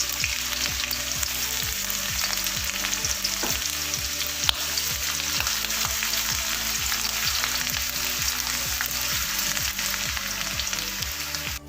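Garlic and ginger fry in a pan with a constant hissing sizzle. Regular, rhythmic stirring scrapes repeat about twice a second throughout, with no voices.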